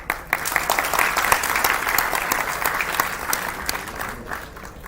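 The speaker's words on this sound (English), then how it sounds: "I would like to huge round of applause guys" A dense round of applause from a crowd at a university induction program honoring a computer science professor, steady many-handed clapping sustained throughout before tapering slightly at the end, with no talking.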